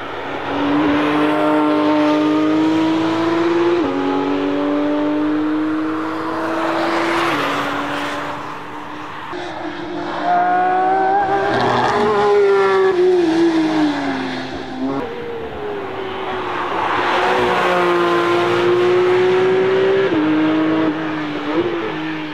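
Porsche 911 GT3 and GT3 RS flat-six engines at the Nürburgring, loud and continuous, with high revving notes climbing and dropping through gear changes as the cars race past, no voices.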